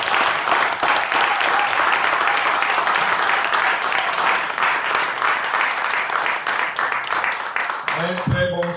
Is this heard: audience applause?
yes